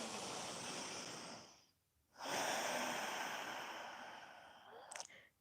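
Slow breathing through the nose during a yoga exercise, a long airy inhale, a brief pause, then a long exhale, close and soft with a faint click near the end.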